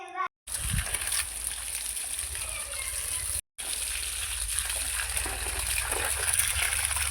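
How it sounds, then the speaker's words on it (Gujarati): Water splashing and gushing steadily as trees are watered outdoors in a village, a continuous close wash of sound broken by two brief silences. "ચાલો તો બધા ઝાડવાને આપણે પાણી પાઈ દઈ."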